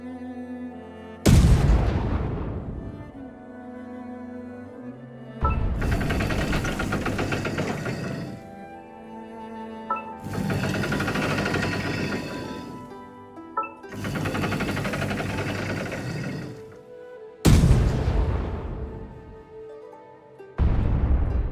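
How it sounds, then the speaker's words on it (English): The mountainator cannon in the video game Genshin Impact fires in a series of about six heavy booms, each loud blast trailing off into a rumbling decay, separated by short pauses. "Align the mountainator and fire it?"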